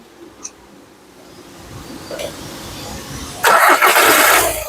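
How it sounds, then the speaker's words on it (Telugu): A 2014 Skoda Rapid Elegance TDI diesel car cranks and starts on the first try, a quiet lead-in followed by a sudden loud burst of engine noise that settles into a steady running roar. "మళ్ళీ ఒకసారి ఇంజన్ స్టార్ట్ చేయి"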